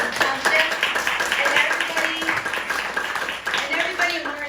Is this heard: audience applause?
yes